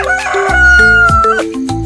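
A farmyard rooster lets out a single loud, close cock-a-doodle-doo crow lasting nearly two seconds, heard on its own.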